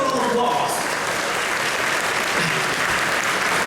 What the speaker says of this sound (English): Please give yourself a round of applause that you guys made it early in the morning